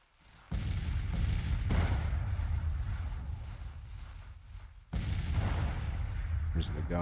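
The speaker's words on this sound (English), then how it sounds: "There's the guns that's shooting at us." Artillery guns fire in a Grand Tactician Civil War battle at Manassas, deep booming blasts rolling out in heavy sustained rumble with two big onsets, the roar carrying on between them.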